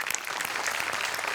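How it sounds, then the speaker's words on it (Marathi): A studio audience at the Marathi comedy show Maharashtrachi Hasyajatra claps heavily after a skit, the applause loud, dense and sustained for the whole moment. "सगळ्यात आधी प्रचंड टाळ्या गोस्वामींसाठी"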